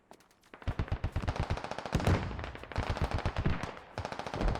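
Rapid automatic gunfire in an infantry combat video game with mechanized vehicles, loud bursts of close shots in quick succession with brief pauses, filling the whole stretch.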